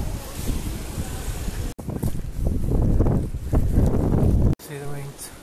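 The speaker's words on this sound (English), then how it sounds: "It's really hard with the wind." Strong storm wind roars and buffets the microphone outdoors in gusting bursts, loud and rough, cutting in and out abruptly, with a muffled voice partly buried beneath it.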